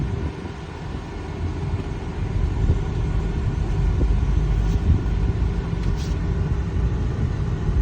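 A Ford V10 van fitted with hand controls cruises along, its engine and road noise forming a steady low rumble inside the cabin with no talking.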